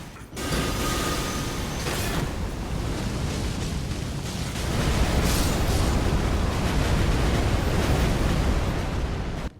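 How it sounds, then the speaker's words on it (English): Ghost Flame spell explosions from the Ritual of Ghost Flame in Elden Ring, a dense, continuous roar of blasts and rumbling that swells louder midway and holds steady, with no talking. "It's a giant series of Ghost Flame explosions."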